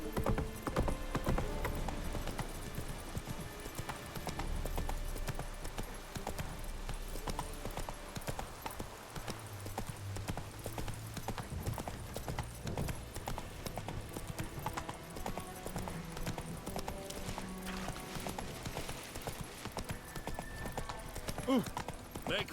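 Geralt's horse Roach gallops in The Witcher 3 on PS5, with rapid rhythmic hoofbeats running continuously and close, blended with game music and ambience and an occasional whinny.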